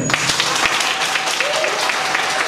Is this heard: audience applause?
yes